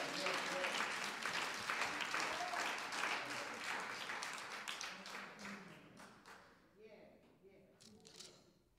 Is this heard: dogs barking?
no